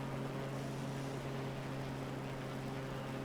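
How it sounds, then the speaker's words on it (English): A small propeller airplane engine in Microsoft Flight Simulator drones loudly and steadily, a constant buzzing hum with strong low tonal harmonics and no pauses. "why is the engine revving back up?"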